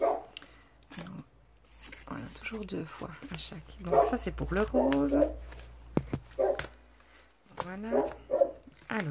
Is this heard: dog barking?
yes